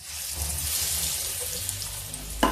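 Besan and rice-flour pakora batter slides into hot oil and frying begins, a close, continuous sizzle with a sharp splash-like burst near the end.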